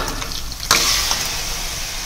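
Mutton hits a pan of ginger garlic paste with a sudden loud sizzle that keeps hissing steadily as the meat fries.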